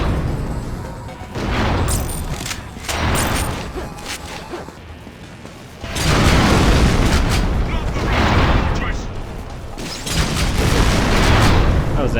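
Gunfire and blasts in GoldenEye: Rogue Agent, loud booming bursts in waves, with a heavy sustained barrage in the second half and a voice talking partly beneath it.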